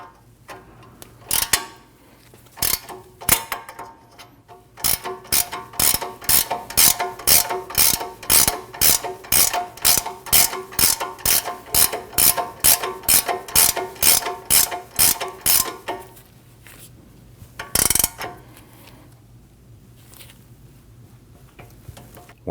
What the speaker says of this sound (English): take a pry bar and install it on the top of the control arm, push down